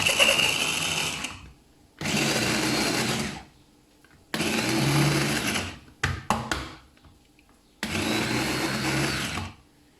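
An electric food chopper mincing pieces of cooked chicken runs in four loud whirring bursts separated by short pauses, with a brief rattle between the third and fourth runs.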